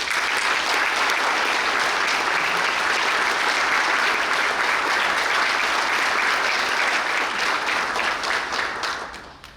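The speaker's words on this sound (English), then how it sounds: "Please give a loud round of applause to this year's female runner-up" An audience at the Ivy Day ceremony applauds the female runner-up with a loud, steady round of clapping that fills the space for about nine seconds before fading out at the end.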